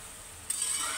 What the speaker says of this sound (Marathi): अशी भाजी परतवून घ्यायची, बारीक गॅसवर शिजू द्यायची